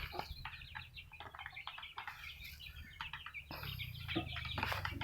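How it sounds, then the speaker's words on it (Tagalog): Chickens cluck and chirp in short bursts, fairly faint, with several birds calling over a low background hum. "Ang aking mga alagang manok."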